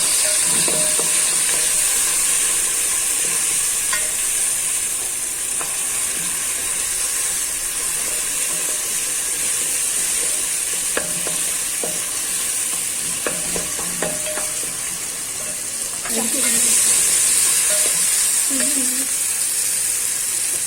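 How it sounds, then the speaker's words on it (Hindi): Green chillies and tomatoes sizzle steadily in a hot pan for an aloo baingan curry, with intermittent scraping and clinks of a spoon stirring them, a continuous close frying hiss throughout. "अब हम हरी मिर्च और टमाटर डाल देंगे। भून लेंगे।"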